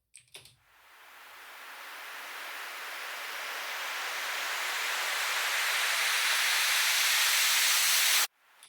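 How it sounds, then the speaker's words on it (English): A dry white-noise riser played in Cubase swells steadily from quiet to loud over about eight seconds, then cuts off abruptly. "if you want to make like a nice rising effect, we can actually use this, which is great for builds and transitions or breakdowns"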